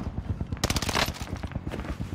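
Gunfire at Fortune's Keep in Call of Duty Warzone, rapid bursts of automatic shots in a rhythmic volley, fairly close and loud, with a denser cluster in the middle of the stretch.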